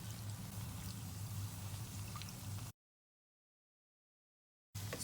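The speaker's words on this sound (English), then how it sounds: "while it fries, you just take a little bit of oil and you pour it on top of it" Cooking oil is poured over msemen flatbread as it fries, giving a soft steady sizzle and trickle that cuts to silence for about two seconds before briefly resuming.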